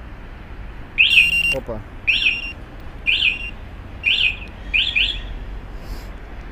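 Motorcycle alarm system chirping a series of five short, high electronic beeps at steady one-second intervals, with a brief spoken exclamation near the start.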